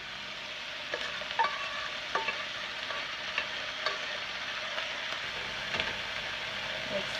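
Beef and vegetables stir-fry in a hot wok: a continuous sizzle broken by repeated scraping and clacking of a utensil tossing the food.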